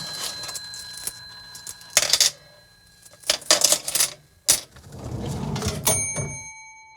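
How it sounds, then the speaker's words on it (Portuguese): An old black museum cash register with a red, white and black numeric keypad is operated: sharp mechanical key clacks and clunks, a ratcheting rattle, then a ringing bell tone at the end, close and loud. "Máquina registradora."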